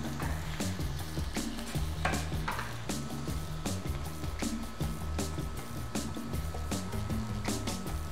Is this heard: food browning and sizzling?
yes